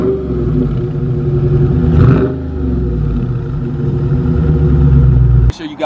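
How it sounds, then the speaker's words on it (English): A Dodge Charger Scat Pack with the 392 Hemi V8 doing a burnout, its engine roaring steadily and loudly for several seconds with a surge near the middle, then cutting off abruptly near the end. "Maybe a little burnout."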